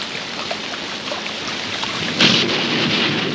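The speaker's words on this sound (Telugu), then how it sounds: "ఇదేం వానబ్బా ఆగట్లేదు" Heavy, steady rain pours down in a film scene, with a dense hiss throughout and a brief crack of thunder partway through.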